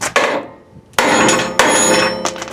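Metal hammer blows ring out on a trailer under repair, a sharp close strike followed by two more loud impacts later, each leaving a bright metallic ring and clatter.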